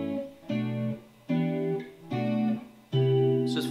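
Electric guitar plays four sustained chords in a slow turnaround, each struck cleanly and left ringing before the next, with a brief scratchy noise at the end.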